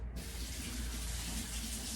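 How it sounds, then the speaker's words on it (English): Water runs steadily from a kitchen faucet as hands are washed beneath it, a close, continuous hiss with no talk. "So I'm just gonna wash my hands."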